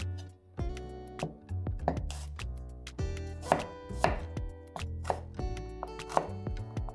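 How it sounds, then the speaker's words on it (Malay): A knife coarsely chopping small shallots on a cutting board, a steady run of close, sharp taps and thuds with brief pauses, heard alone with no talking. "Bawang merah kecil, potong kasar juga."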